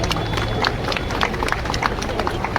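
Applause breaks out at a Republic Day celebration as a garland is offered, with scattered hand claps from a crowd that ripple irregularly over a background hubbub.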